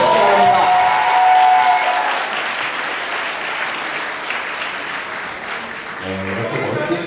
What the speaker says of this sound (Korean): 다시 한 번 더 큰 박수를 보내주시기 바랍니다.